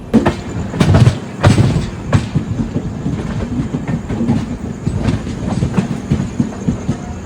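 An Indian Railways train moves through Mysore Junction, its wheels clattering in a loud, rhythmic clickety-clack over a heavy rumble. Sharp metallic knocks punctuate the first couple of seconds.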